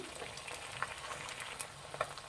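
Beaten eggs seasoned with chili powder and salt sizzle in a pan over medium flame for egg biryani: a faint, steady hiss of frying with scattered small crackles throughout.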